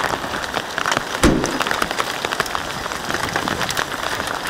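Hail from a sudden storm pelts the ground and surfaces nearby in a thick continuous rattle of many small impacts, with one louder thump early on and no voices.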